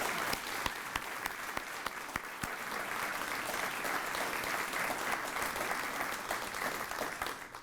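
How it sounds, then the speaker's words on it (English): A morning community awards audience applauding the award recipients: sustained, even clapping from a large crowd, with a few distinct nearby claps standing out early, holding steady to the end. "Let's just all give another round of applause to all of our recipients this morning"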